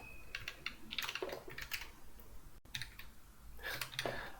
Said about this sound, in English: have trouble sometimes typing